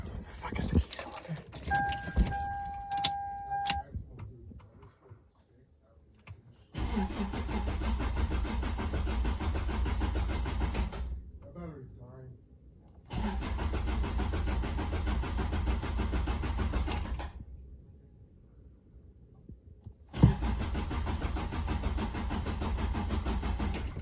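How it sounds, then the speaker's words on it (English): A Toyota Celica engine cranks over in repeated long bursts of steady starter whirring, each lasting several seconds with quiet gaps between, preceded by brief clicks and faint chimes. "time to crank the engine"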